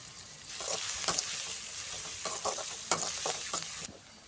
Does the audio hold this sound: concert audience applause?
no